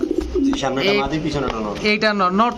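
A white King pigeon hen coos in a series of throaty, rolling calls close by, with human voices mixed in.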